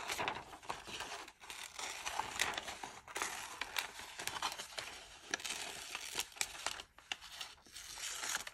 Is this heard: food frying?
no